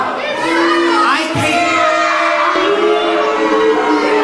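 A large wrestling arena crowd reacts with sustained loud, dense noise from start to finish, with children's shouts mixed in.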